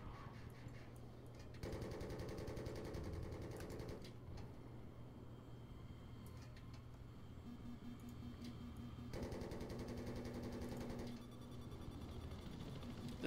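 Vehicle-mounted machine gun firing in Battlefield 3, heard as sustained rattling bursts in separate stretches with short pauses between, fairly faint and set under a steady engine-like drone.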